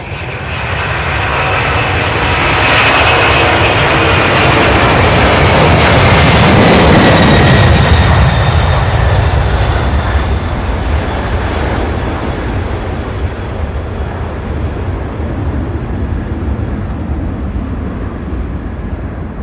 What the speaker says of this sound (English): MD-11 spooling up, and here she goes.